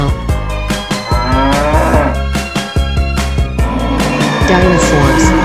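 A cartoon cow moos over loud, busy background music with a pounding beat, the lowing calls rising and falling under the steady track.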